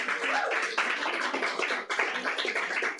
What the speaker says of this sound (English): Another round of applause for David St.